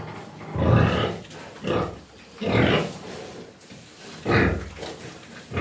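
A sow grunts in four or five low, throaty bursts spaced a second or so apart, fairly close, with quiet pen noise between.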